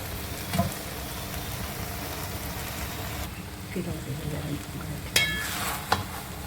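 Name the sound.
stir-frying vegetables and rice for chicken fried rice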